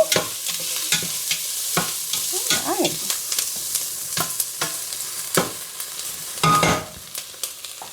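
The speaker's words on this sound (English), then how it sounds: "Those onions are actually browning fairly quickly" Onions fry and brown in a pan for a vegan chili, a steady sizzle broken by frequent sharp scrapes and clacks of a utensil stirring, fairly close with no talking.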